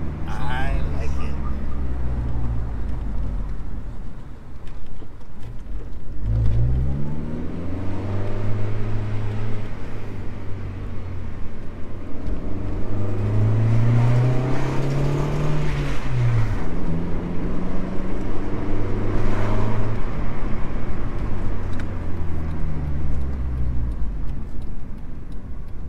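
A 1999 Honda Civic CX hatchback fitted with a Revel Medallion Touring-S exhaust idles with a steady low drone, rising in a few gentle revs and settling again, while people talk over it.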